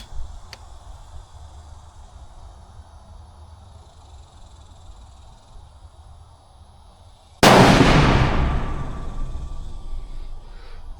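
A long-range rifle shot cracks out loud and sharp after several seconds of quiet background hiss, then decays into a lingering broad rumble and echo.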